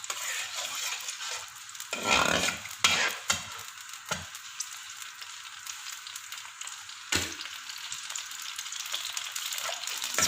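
Green cardamom pods and a cinnamon stick cooking in a pan for Pakistani-style zarda rice, with a steady light sizzle broken by a few stirring scrapes and knocks of a utensil against the pan.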